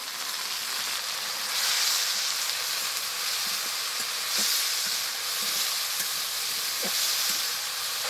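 Black cumin, chopped onion and spices frying in hot oil, a steady close sizzle with occasional small pops and crackles throughout.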